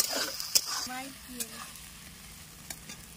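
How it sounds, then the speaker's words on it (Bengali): Spice masala for a cauliflower roast sizzles in a pan while a spoon stirs and scrapes it, with a few sharp clacks of utensil on metal over a soft, steady frying hiss. "আর কন্টিনিউসলি নেড়ে চলে যাবেন কিন্তু আপনারা, নাহলে লেগে যেতে পারে।"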